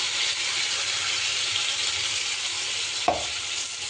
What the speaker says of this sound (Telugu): ఒక 2 నిమిషాల పాటు మనము ఫ్రై చేసుకున్నాం ఒక చట్నీని